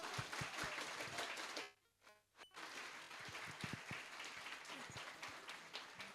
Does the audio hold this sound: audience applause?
yes